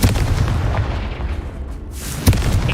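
Booming blasts from the Confringo spell in Hogwarts Legacy, one heavy explosion at the start and another sharp burst near the end, both loud and close with rumbling decay between them.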